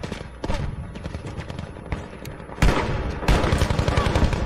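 Rapid bursts of video game gunfire crackle alongside the whoosh of flames, with dense, sharp volleys growing louder toward the end and some speech briefly mixed in.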